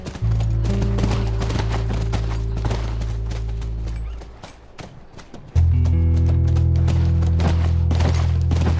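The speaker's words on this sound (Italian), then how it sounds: "Quello è il nostro cavallo." Horse hooves clip-clop in The Last of Us video game, a steady stream of close, sharp hoofbeats over a loud low hum that briefly drops out.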